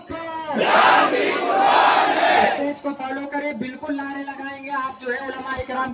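A protest crowd at a sit-in demonstration in Parbhani, Maharashtra, chanting a loud slogan in unison for a couple of seconds, followed by quieter speech and scattered crowd voices.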